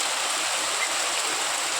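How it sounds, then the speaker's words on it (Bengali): Heavy rain pours steadily outside a house during a thunderstorm, a dense, continuous hiss with no voices. "খুব জোরে বৃষ্টি এসছে।"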